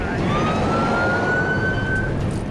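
A fire truck siren wails continuously during a storm, loud and close, its tone sweeping slowly upward over steady rumbling road noise.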